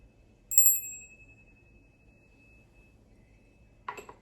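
A small bell is struck once to clear energy and rings out as a bright, close tone that fades slowly, then a second jangling shake follows near the end. No one speaks.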